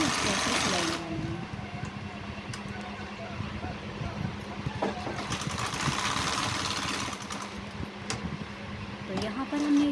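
A sewing machine runs steadily the whole time, stitching a seam on a ladies' pant, its close mechanical hum continuous and even. A voice talks over it at times.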